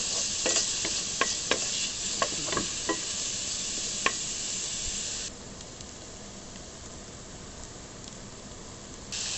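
Garlic and onions sizzle and hiss steadily in a hot pan, with several sharp scraping stir strokes early on before the frying settles into a quieter continuous crackle.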